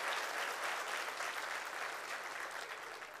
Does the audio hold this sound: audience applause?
yes